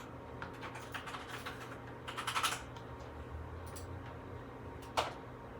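Someone types a title on a computer keyboard, giving a quiet run of scattered key clicks with a couple of sharper taps over a low background hum.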